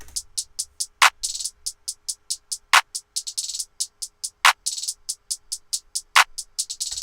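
A busy programmed hi-hat pattern ticks steadily, with varied accents and occasional louder, fuller hits punctuating the bright rhythmic clicks.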